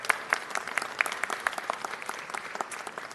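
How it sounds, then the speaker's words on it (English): A city council meeting audience applauds with steady, fairly close clapping from a modest crowd that keeps an even pace for a few seconds. "Big round of applause for John Szabo"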